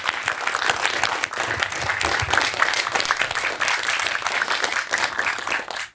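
A studio audience applauds steadily for several seconds during an awards segment, dense clapping that holds an even level before fading at the very end.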